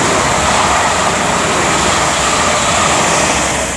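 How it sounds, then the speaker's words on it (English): Express train on the West Coast Main Line from Birmingham New Street to London Euston running through Marston Green station without stopping, a loud, steady broadband roar of rolling wheels and rushing air sustained close by throughout. "The train now approaching platform does not stop."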